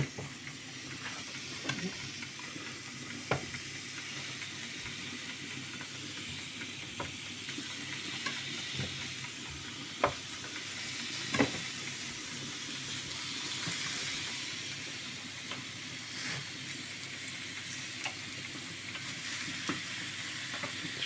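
Vegetables laid on a grill beside meat, sizzling steadily and fairly softly, with scattered clicks and taps of tongs or utensils throughout.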